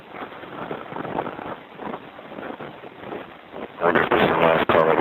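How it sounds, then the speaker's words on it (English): Blustery wind buffets the microphone in uneven gusts outdoors by a payphone, growing stronger and rougher toward the end, with muffled voices underneath. "It's windy"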